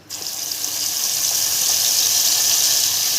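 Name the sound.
ground peanut batter sizzling as it is added to hot oil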